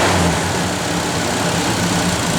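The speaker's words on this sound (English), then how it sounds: "Give it a little rev, Dale." The engine of a 1957 Chevrolet 210 runs loud and close with a steady, rough rumble, held at a constant pitch rather than rising in a clear rev, with no voices.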